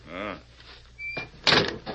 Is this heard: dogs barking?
no